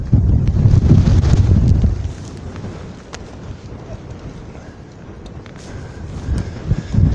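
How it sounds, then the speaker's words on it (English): Strong wind buffets a microphone on an exposed hilltop at an ancient burial mound in Britain, with heavy low rumbling gusts that ease after a loud opening and keep roaring steadily. "Right, so it's absolutely stupidly windy."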